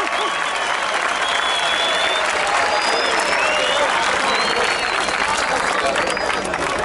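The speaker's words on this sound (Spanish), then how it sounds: "Un muy fuerte aplauso por todos" A crowd at a freestyle rap battle final applauds loudly and continuously, dense clapping with some cheers and whistles mixed in, sustained for several seconds.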